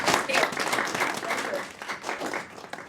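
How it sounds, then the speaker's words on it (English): A live audience applauds a dance artist named Mary at a dance conversation event, a dense, steady burst of clapping with a few crowd voices mixed in, lasting a few seconds. "How about a round of applause for Mary?"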